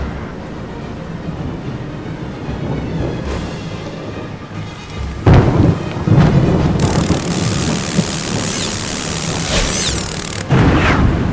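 Stormy weather in the PC game Harry Potter 3, a continuous wash of rain with low rumbling thunder that swells into heavy crashing rolls halfway through, loud and without any talk.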